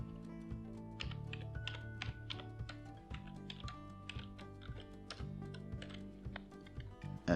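Code is typed on a computer keyboard in a quiet room, quick irregular key clicks and taps in bursts over a low steady hum, with no talking.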